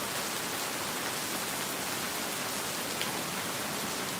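Heavy rain pours down in a dense, steady hiss of drops striking surfaces, loud and unbroken with no talking over it.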